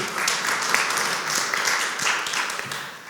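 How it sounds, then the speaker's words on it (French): A woman claps at a partners' presentation event, giving a run of fairly quick, even claps that hold at a moderate level with a slightly hollow room sound. "Ah oui, elle applaudit."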